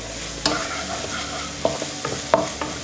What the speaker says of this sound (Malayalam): ഇതിലേക്ക് തന്നെ പകുതി തക്കാളി ചോപ്പ് ചെയ്ത് വെച്ചിരിക്കുന്നത് ഇടുക. അതുപോലെ തന്നെ ഗ്രീൻ പീസ് ഇട്ട് കൊടുക്കുക. ഇളക്കി കൊടുക്കുക.